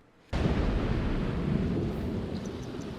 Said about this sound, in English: she's out here in a thunderstorm